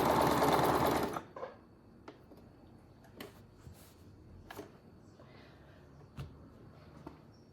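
A sewing machine stitches fabric in one loud, fast burst of about a second, then stops, leaving a quiet room with a few scattered clicks and taps.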